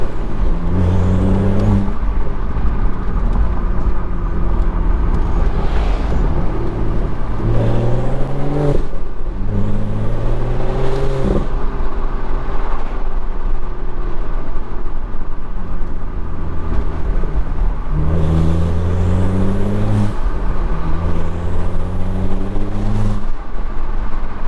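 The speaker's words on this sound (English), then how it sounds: "you get to hear the turbo spool better" A 2013 BMW 135i with turbocharged N55 engine and E30 fuel tune accelerating through the gears, loud and close from inside the car, engine note climbing repeatedly between shifts with turbo spool whistling over the rising revs.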